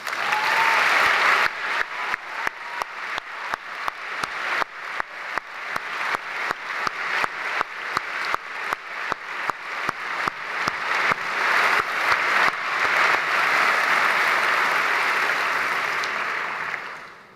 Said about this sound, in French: Et vous pouvez vous applaudir vous-même.